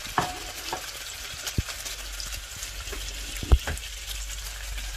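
Chicken gizzards sauté in a hot pan with a soft, steady sizzle and a few sharp clinks and scrapes from stirring. The sound is close and moderately quiet, with no talking.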